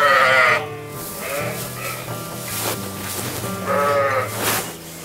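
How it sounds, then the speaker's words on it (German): Sheep from a farm flock of 30 ewes bleat in two loud, close calls at the start and near the end, with quieter flock noise between. "Inzwischen hält sie eine Herde mit 30 Mutterschafen"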